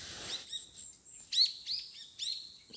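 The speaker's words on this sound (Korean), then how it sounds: "새소리 죽인다." Birds chirp and sing outdoors in a short series of clear, bright calls, several quick phrases repeating over a quiet background with no talk.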